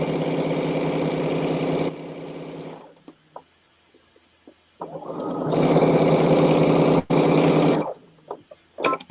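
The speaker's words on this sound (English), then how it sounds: "So I have sewn my strip set together." A sewing machine stitches a quilt strip set, running in two long steady whirring bursts separated by a pause with a few small clicks and taps, loud and close with no talking.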